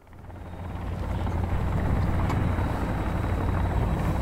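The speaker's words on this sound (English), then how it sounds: "Helicopter, helicopter." Helicopter in the survival game Sons of the Forest, a rotor roar swelling in from quiet and holding steady and loud, close and continuous with no talk.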